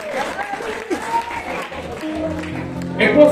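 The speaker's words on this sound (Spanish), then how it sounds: "Demos un aplauso a Cristo." A church congregation claps together in sustained, fairly close applause, with a preacher's voice and cheering mixed in over the clapping.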